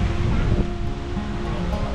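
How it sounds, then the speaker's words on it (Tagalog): Ocean surf washes continuously along a provincial seaside shore, mixed with steady wind buffeting the microphone, with no talking. "Yung karagatan."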